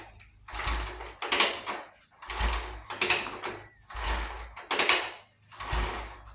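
Priming kicks on the kickstarter of a 1939 Indian Four (439) motorcycle, five or six slow rhythmic mechanical strokes with a ratcheting clunk and low thump on each kick, close and fairly quiet, with no engine firing.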